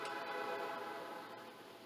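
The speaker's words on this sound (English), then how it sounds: "Here comes another train." A train passes in the distance with a steady broad rumble and rail hiss that slowly fades, heard alone with no talking.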